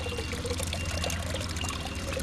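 Cold water poured steadily from a container into another to mix with homemade fertilizer, a continuous close splashing stream with no talk.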